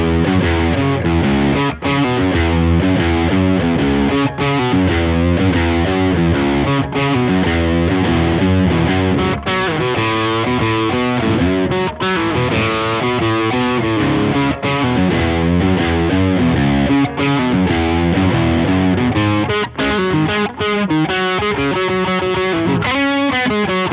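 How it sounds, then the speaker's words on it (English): Electric guitar played through the preamp of an Echoplex EP3 tape echo, a continuous stretch of thick, gritty riffing and chords, loud and close with no voices. "I'm going to play a little bit with just the dry tone with just the preamp of the Echoplex."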